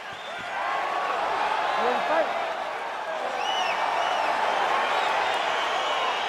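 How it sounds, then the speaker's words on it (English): A virtual arena crowd in the fighting video game EA Sports UFC 4 cheers steadily as a bout gets underway, a continuous dense roar with scattered whistles and shouts rising over it throughout. "crowd getting excited as this fight gets underway"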